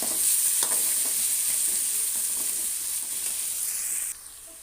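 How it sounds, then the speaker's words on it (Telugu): Boti gongura curry frying and being stirred in a pan: a loud, steady sizzle with scraping stirs throughout, dropping to a quieter sizzle near the end. "ఇది తిక్కుగా వేయించుకోవాలి బాగా మాడకుండా పచ్చిపచ్చిగా లేకుండా మంచిగా వేయించుకోవాలి"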